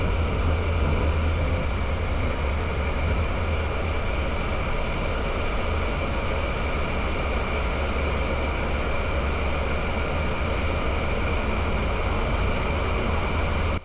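A high-speed AVE train on the Valencia to Madrid Chamartín line rumbles as it slows, with a steady, loud broadband roar and low drone from inside, continuous and unbroken throughout.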